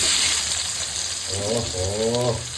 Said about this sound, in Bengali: ওই মাছ ভাজার তেলে আমি এবার পেঁয়াজ কুচিগুলো দিয়ে দিলাম বড় বড় দুটো পেঁয়াজ